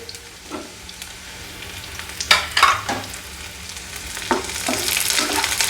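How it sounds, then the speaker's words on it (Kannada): Green chillies fry with onion and garlic in a pan for an amaranth stir-fry, a close, crackling sizzle punctuated by several sharp stirring scrapes that build toward the end. "ಮೆಣಸಿನ್ಕಾಯಿ ಒಂದು ಸ್ವಲ್ಪ ಫ್ರೈ ಮಾಡ್ಕೋಬೇಕು ರೀ."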